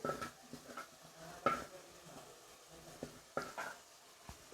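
Browned onions are added to a pan and stirred while making gravy for white chicken karahi, with faint scraping, soft sizzling and occasional utensil taps against the pan at irregular intervals.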